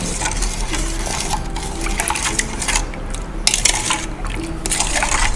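A sweetened liquid mixture pours into a cup with a continuous close splashing trickle that shifts in intensity, with faint clinks and bubbling along the way.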